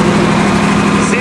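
A diesel Ford truck engine idles nearby, a loud, steady low rumble with an even mechanical chug throughout the short stretch.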